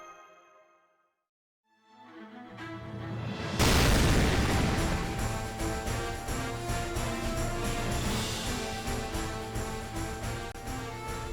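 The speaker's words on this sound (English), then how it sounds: "Gotta love that explosion every time." A big explosion in the mobile game Fate/Grand Order hits after a short near-silence, one loud broad burst that rolls on under a sustained, dense game soundtrack.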